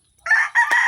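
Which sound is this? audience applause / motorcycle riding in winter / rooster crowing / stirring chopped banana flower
rooster crowing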